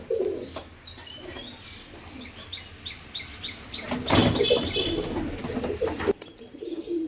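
A pair of white pigeons coo repeatedly in soft, rhythmic bursts, close by, joined by light chirps, with a brief clatter midway and a quieter stretch at the end.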